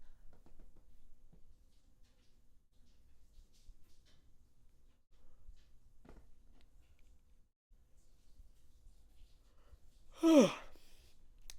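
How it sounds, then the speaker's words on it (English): A person yawning in a quiet room, one loud drawn-out breathy yawn rising near the end after a long near-silent stretch with faint background noise. "That was a lot of silence, but that was a impressive yawn"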